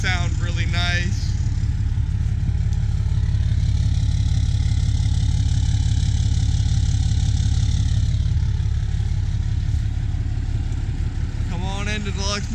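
A lifted Ram 3500 show truck with custom exhaust work idles close by in a loud, deep, steady rumble that holds evenly from start to finish.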